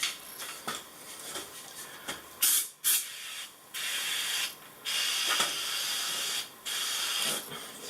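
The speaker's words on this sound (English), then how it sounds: "Spray the tool." A spray bottle mists a caulk smoothing tool while silicone is applied around corner shower shelves, giving repeated short hissing bursts of uneven length, some abrupt and loud, with no talk.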